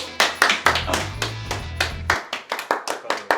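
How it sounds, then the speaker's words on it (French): A small audience claps for a guest at a casual show, sparse separate handclaps in an uneven rhythm, close and crisp, with a low hum partway through and no talking. "S'il vous plaît, un maximum d'applaudissements pour Marcelino."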